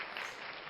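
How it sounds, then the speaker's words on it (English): A short, steady wash of crowd applause, even and sustained, plays as a sound effect in an Arkham Horror card game session. "The crowd goes wild."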